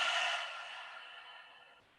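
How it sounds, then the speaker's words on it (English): A deep breath out through the mouth during a gentle yoga breathing exercise, a soft airy exhale that starts fairly strong and slowly fades over about two seconds, heard close and alone. "and deep breath out through the mouth."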